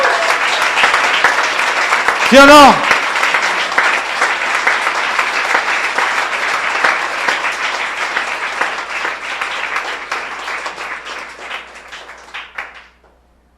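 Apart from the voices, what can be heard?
audience applause in church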